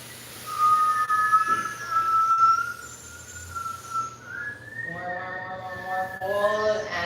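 Whistling breath during Kundalini yoga breathing: a thin, steady high tone is drawn in for several seconds, then shifts into a wavering, buzzy whistle on the exhale, moderately loud over a quiet room hum.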